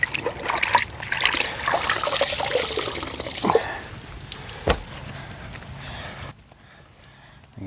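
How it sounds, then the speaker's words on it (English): Water splashes and trickles as car paint is rinsed and wiped with a wet rag, close and uneven, before fading to a quiet pause near the end. "We're gonna use our rag and clean this with water."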